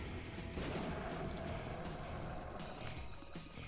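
Bombs in The Binding of Isaac Repentance go off in a dense, constant barrage of muffled blasts and rumbling booms, a loud continuous wash with no pauses and no talking.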